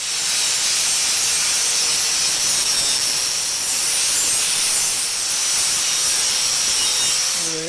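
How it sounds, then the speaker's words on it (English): Power grinder and sander working over a steel welding table tool holder, a steady loud hissing abrasive roar held for several seconds with no talking. "So I'm gonna clean it up, grind it, sand off everything, make it all nice and smooth and shiny."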